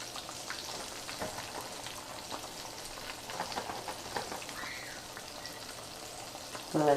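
Chicken pieces fry in hot oil for a Southern fried recipe, a faint, steady crackling sizzle with scattered pops and a short clatter near the end.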